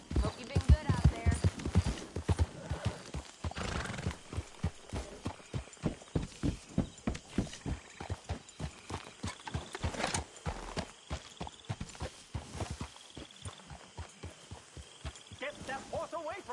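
A horse's hooves clip-clop in Red Dead Redemption 2 in a steady, close walking rhythm that runs all the way through, with a character speaking over parts of it.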